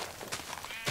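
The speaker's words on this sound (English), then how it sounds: "Come back, sheep!" Minecraft sheep giving a short, quiet bleat, a brief nasal cry over faint background noise.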